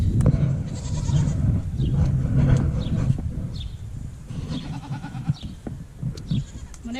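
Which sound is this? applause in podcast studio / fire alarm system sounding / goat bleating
goat bleating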